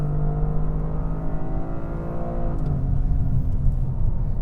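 A 2025 Toyota GR Corolla with an automatic transmission accelerates hard on a track, its engine note rising steadily before a quick gear shift drops the pitch, then it climbs again under a loud, rumbling drone.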